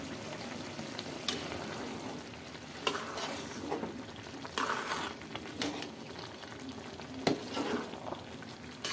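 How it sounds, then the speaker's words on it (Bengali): Chepa shutki, a fermented dried fish, sizzles and fries in a pan while it is stirred. Soft scraping clicks land at irregular moments over a steady, quiet crackle. "এখন একটু নাড়াচাড়া দিয়ে দিতে হবে।"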